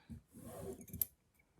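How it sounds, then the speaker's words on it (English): Small scissors trim the fabric dress of a handmade peppermint fairy Christmas ornament with a couple of quick, close, quiet snips. "now I think her dress is a little bit long, so I'm going to trim it"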